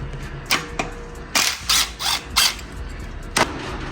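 A hand tool working on the exhaust clamp bolt of a 2023 Yamaha R1M during an Akrapovic full titanium exhaust install, giving a few short ratcheting clicks and bursts, close up, with quiet gaps between them.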